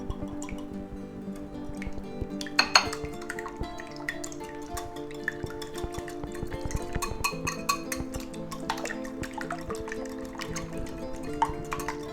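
Eggs with garlic powder, onion powder and smoked paprika being beaten in a bowl for an omelette, a quiet close run of quick wet clicks and taps against the bowl, with a few sharper clinks scattered throughout.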